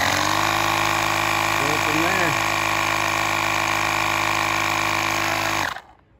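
An electric tire inflator pumps air into a bicycle tire, a loud, steady buzzing motor drone that runs unbroken and then cuts off abruptly near the end.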